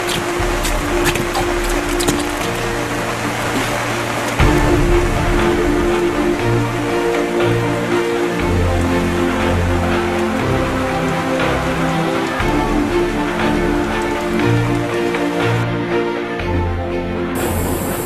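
Steady rain patters across a construction site, a dense, even hiss of drops that runs throughout with sustained musical tones playing underneath.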